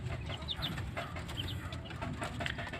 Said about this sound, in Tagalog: Ayan sila mga guys, poging pogi yung puti na tandang